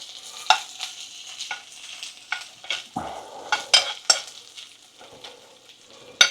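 Bacon and sausages sizzle in a frying pan, making a soft, steady crackle broken by sharp spitting pops and occasional scrapes, moderately close, with no voices.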